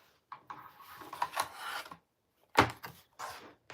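Quilt fabric edges are trimmed in short, close rasping cuts, in a few separate bursts with brief silences between them.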